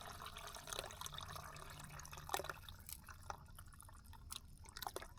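Water drains and drips from the engine of an old truck pulled from a scrap yard, giving quiet, irregular drops and splashes over a soft, low background.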